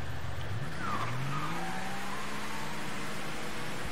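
Car in the Mafia III game driving hard and skidding, a continuous engine drone with sweeping tire squeals rising and falling over about four seconds, loud and up close with no speech.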